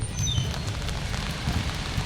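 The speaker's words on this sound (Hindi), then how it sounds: "ये जो बारिश हो रही है" Steady rain falls during flooding in Delhi, a continuous wash of drops heard alone at a moderate level, filling the whole clip without pause.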